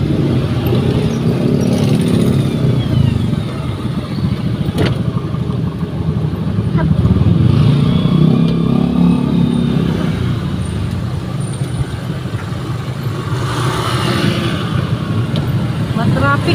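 Heavy road traffic in a jam, cars and motorcycles weaving between lanes, rolls past as a continuous loud engine rumble close by, with passing vehicles swelling and fading and a brief hiss from an air brake.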